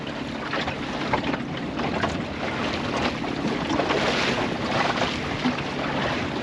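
A Welsford Navigator sailing dinghy cruises through water near the Tamar, with a steady rush of wash and hull noise and constant wind buffeting throughout, no voices.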